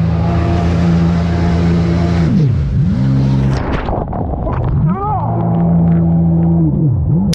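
A jet ski engine held at full throttle near a storm-battered coast, a loud, close, droning roar whose pitch dips and climbs again several times as it rises and falls over the water.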